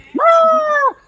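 A man imitates a dog's bark as a signal, but it comes out as one drawn-out, wavering bleat that sounds more like a goat. It is a single close, loud call lasting under a second.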